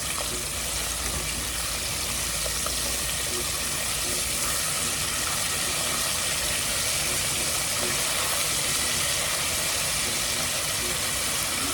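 Chicken frying in a pan at home, a continuous broad sizzle that stays even and fairly close for the whole stretch, with no talking over it.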